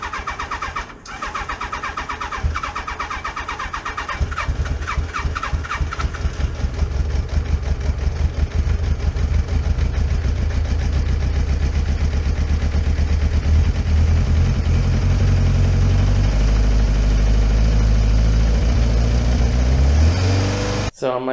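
A motorcycle engine that runs poorly cranks into life and is revved up, the sound rising steadily from sputtering to a loud, sustained roar that fills the clip before cutting out abruptly.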